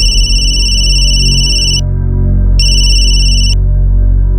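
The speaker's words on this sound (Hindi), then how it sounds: "मैं सुनील को फोन करता हूँ" A telephone rings with a loud, bright electronic ringtone in two bursts, one long and one shorter, separated by a brief gap, over a low background drone in a scene from the Hindi TV crime drama Crime Patrol.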